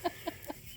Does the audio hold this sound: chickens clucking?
yes